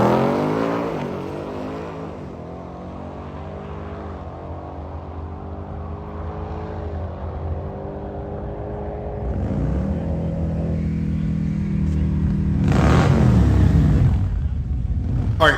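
A supercharged V8 2024 Ford Mustang GT with a Roush supercharger, on sticky tires, roars through repeated upshifts on a drag strip pass, revs climbing and dropping between gears, then surges loudly again near the end of the run.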